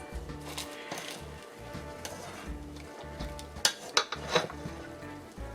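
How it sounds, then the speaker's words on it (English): Lemon basil chicken salad ingredients get mixed in a bowl, with soft stirring and scraping over a steady background hum. A few sharper clinks of a utensil against the bowl come near the end. "So now we're gonna mix this well until all the ingredients are well combined."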